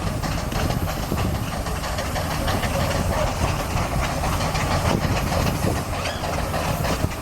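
A steam traction engine hauls a heavy load uphill at the Great Dorset Steam Show, giving a dense, steady roar of hissing steam and rhythmic chuffing with clattering mechanical detail, loud and close throughout.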